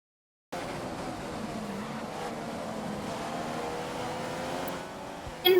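Race car engine from the F1 2015 video game, a steady sustained drone with a faint tonal whine holding at roughly constant loudness throughout, ending in a short louder burst.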